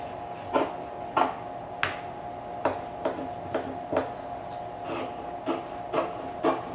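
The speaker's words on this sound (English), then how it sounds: "I'm going to go ahead and cut using the cutting pattern that I've got" Scissors cutting scrapbook cover fabric along a cutting pattern for an 8 x 8 cover kit, a steady run of about ten crisp snips spaced roughly every half second, close and clear with no talking.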